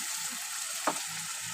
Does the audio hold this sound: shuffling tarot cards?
no